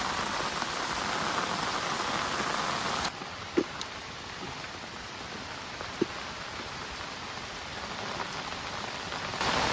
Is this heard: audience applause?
no